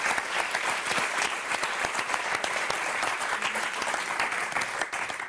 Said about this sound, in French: Bravo à tous les quatre, applaudissements largement mérités.